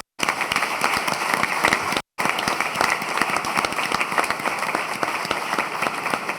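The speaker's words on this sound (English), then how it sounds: "we do want to take a moment for a round of applause in memoriam for Gwen Jackson" At an annual housing authority meeting, an audience gives a steady, full round of applause in memoriam, dense crackling claps sustained for several seconds, with a brief dropout near the start.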